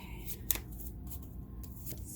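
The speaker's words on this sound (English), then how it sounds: "Get a good shuffle here." A deck of cards is shuffled by hand close by with soft riffling and flicking, a couple of sharper snaps, and low background noise.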